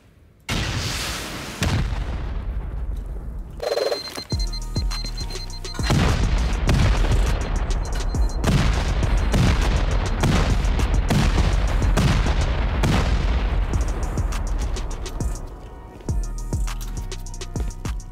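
Incendiary rockets slamming into a base during a video game raid: a burst of loud, repeated explosive booms followed by a sustained roaring, crackling barrage that tapers near the end.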